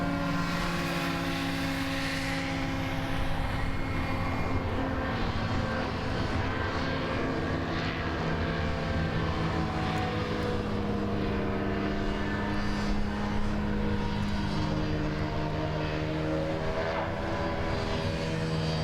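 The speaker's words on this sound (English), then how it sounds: "there is a 4-stroke out there, you can probably hear it, just coming out of the water now" A four-stroke Formula 3 racing hovercraft engine drones steadily and loudly at a race meeting, a sustained propeller-like hum with shifting tones as the craft comes up out of the water.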